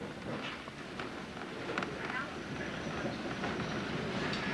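A West Virginia Northern Railroad train rumbles steadily along the rails with rattling and faint squeals, heard from on board, continuous and moderately loud.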